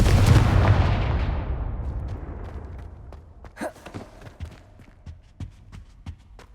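A fiery Confringo spell cast in the Hogwarts Legacy video game, with a loud booming blast that decays over a few seconds, then scattered crackles and softer impacts trailing off.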